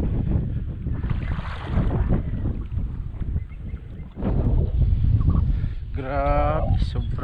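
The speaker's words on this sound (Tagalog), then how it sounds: "Grabe, sobra namang hangin." Strong wind buffets the microphone in a continuous roar, with people talking faintly underneath.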